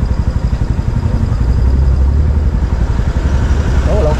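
A steady, loud rumble of many cars and motorcycles passing close by fills a busy road, with engine drone continuing unbroken throughout.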